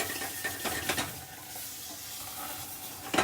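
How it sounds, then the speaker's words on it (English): Tomato stirred into a frying pan while cooking pan-fried seabream, soft scraping strokes over a gentle sizzle, with a few louder stirring scrapes near the start and end. "So again, just going to mix in the tomato."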